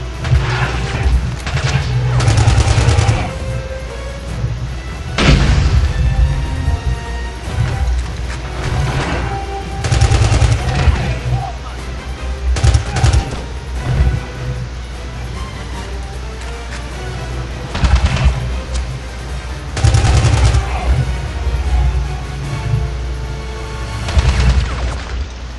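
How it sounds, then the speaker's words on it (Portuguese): Gunfire and booms in the PC game 007 Blood Stone, loud and continuous with repeated shots and blasts under a steady low-end rumble, no clear talk over it. "Tá onde que eu tô vendo esses tiros?"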